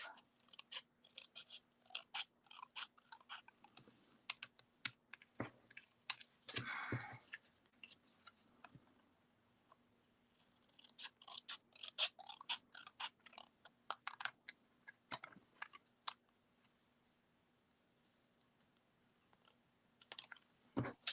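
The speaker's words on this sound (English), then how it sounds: "I'm going to cut these in half." Scissors snip through cardstock cards to cut them in half, sharp close crunching cuts in irregular bursts separated by quiet pauses, with faint paper rustling between strokes.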